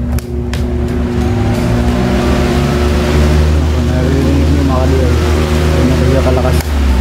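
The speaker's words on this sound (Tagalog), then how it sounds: "Industrial fan kasi ito eh." An industrial fan runs loudly and close, a steady low hum with strong droning motor tones throughout, with a voice speaking over it.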